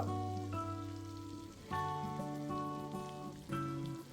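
Grated garlic sizzles in a pan for a salmon butter sauce, a steady soft crackle running under louder melodic background music.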